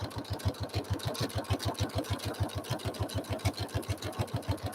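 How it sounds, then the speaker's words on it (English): A sewing machine stitches along the curved edge of a quilt, its needle thumping in a fast, even rhythm close by with a steady motor whir underneath. "Okay, so I'm going to stitch right along here."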